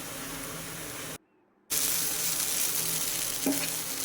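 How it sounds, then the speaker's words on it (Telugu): Gram flour vegetable bhurji mixture fries in a pan with a steady close hiss and sizzle, broken by a brief half-second of silence before the frying resumes slightly louder. "శనగపిండి పచ్చివాసన పోయే వరకు వేపుకోవాలి"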